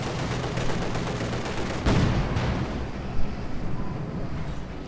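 A field gun in the Company of Heroes 2 video game blows apart in a heavy explosion, a sharp burst that rises over dense, continuous battle noise with gunfire and rumbling, followed by smaller bangs.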